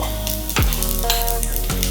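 Cumin seeds dropped into hot ghee and oil for Kabuli pulav give a loud, continuous close sizzle with crackling spits and a brief clunk of a utensil against the pan, and no voices.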